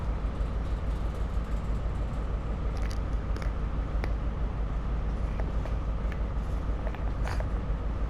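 An Azuma train pulls into a station platform in Train Sim World 4, a dense, continuous rumble of wheels and motor with faint clicks and squeaks scattered over the top.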